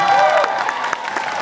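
Audience applause at the WonderCon 2012 Fringe convention panel, a steady wash of clapping and crowd noise with a few voices mixed in, fairly loud and continuous throughout the short burst.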